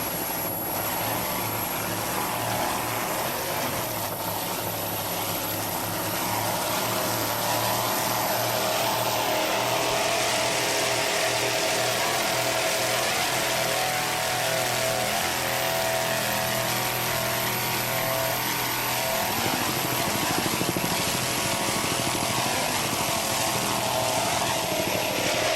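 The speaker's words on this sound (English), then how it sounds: "This boat is moving quite nicely." A racing powerboat at the Valvoline race on the water in Chicago roars continuously as its engine throttles, a steady distant drone with shifting pitch and no talk.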